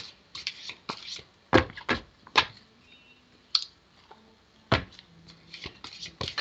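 Tarot cards being shuffled by hand, irregular crisp riffles and slaps in short bursts separated by quieter pauses, close up with no speech.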